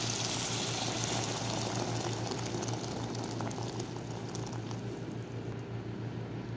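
Hot water pouring into a pot of rice and lentils, a steady, dense rushing splash close by that runs the whole time and eases off slightly toward the end.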